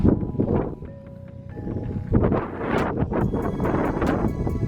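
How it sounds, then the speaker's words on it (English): Wind gusts and buffets against the microphone at a photoshoot with a track-prepped Subaru STI and a stanced STI, rumbling low and steady, swelling and easing in bursts. "It's kind of windy over here"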